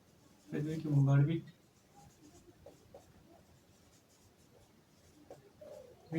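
Chalk or marker scratching across a classroom board during a Hindi geography lesson, a short loud burst of strokes near the start, then faint scattered taps and scrapes with a teacher's voice around it.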